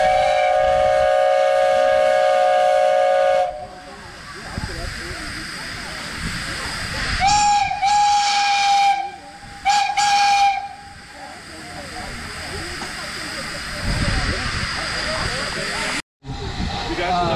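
Steam locomotive whistles blow in turn at a Kentucky Steam Heritage Corporation whistle event, long loud chimed blasts with steam hiss and hubbub from a crowd of onlookers between them.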